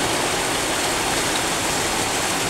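Dense, steady hiss of heavy rain pours without letup, a broad wash of water noise filling the whole moment with no voices.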